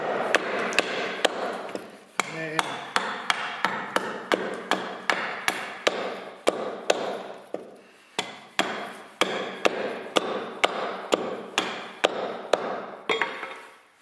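An axe chops wood to shape a point, giving a steady series of sharp, close thwacks roughly every half second, with a brief pause partway through before the blows resume.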